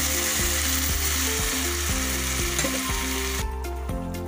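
A loud, dense sizzle of a spice mixture frying in a pan as water goes in, with repeated rhythmic scraping stirs close up; the hiss drops away abruptly near the end.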